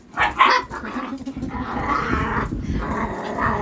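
Pet dogs play in an air-conditioned home, growling and barking loudly and close by. Sharp yips come early, then continuous rough growls run through the rest.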